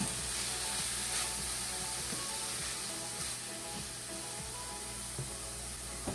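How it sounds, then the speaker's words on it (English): Cubed tofu is stirred through a hot pan for a ginger and zucchini pasta. A steady close sizzle runs the whole time, broken by the scrape and clatter of a spatula mixing it around. "Now it's time to add in our tofu. Mix it up really well."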